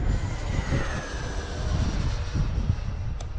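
A QT Models T-45 Hawk model jet in flight gives a continuous whooshing, droning engine roar with a faint rising whine, steady and fairly near throughout.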